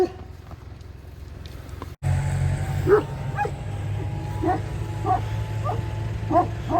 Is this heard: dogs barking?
yes